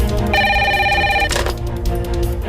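Telephone ringing in a TV drama, one electronic ring burst lasting about a second, followed by a brief rustle, over a steady background music bed.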